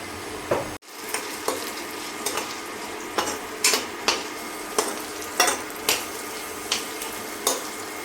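Onions frying in oil in a pan while being stirred for rice noodles, a steady close sizzle punctuated by regular scraping strokes of a spoon roughly every half second, with no voices.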